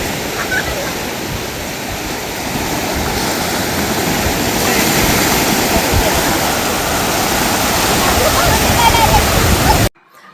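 Sea waves wash up on Vagator beach in North Goa in a broad, steady roar of surf that swells a little, close and loud, with a voice briefly heard over it before it cuts off.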